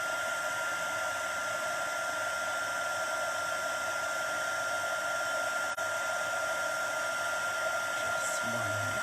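A heat embossing tool blows a loud, steady hot-air whoosh close by while a Christmas card is embossed, running continuously with a brief dip near the end.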